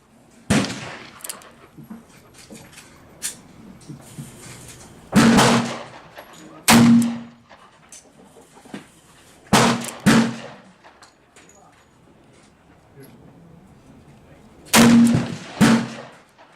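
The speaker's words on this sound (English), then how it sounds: "Okay, 6 shots with the standard primer." Pistol shots with standard small pistol primers crack out sharply outdoors, six loud reports spaced irregularly and each followed by a brief echo, with quieter handling noise between them.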